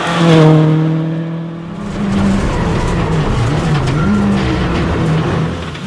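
A Peugeot 206 WRC rally car revs hard and races past, engine notes rising and falling through gear changes, with tires scrabbling over the surface; loud and close, no talking.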